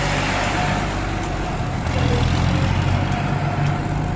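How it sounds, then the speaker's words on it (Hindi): A tractor pulls away on a road, its engine a steady low rumble that grows a bit louder midway, heard nearby and continuously with no one talking. "ट्रैक्टर लेके चला गया है हमारा।"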